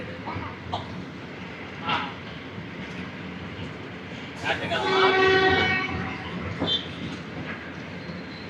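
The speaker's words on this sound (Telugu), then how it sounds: "ఏదో ట్రైన్ వస్తున్నట్టుంది, అరుస్తుంది" A train horn blares in one long, loud blast over the steady rumble of a passing train near Rajampet railway station, with faint background voices.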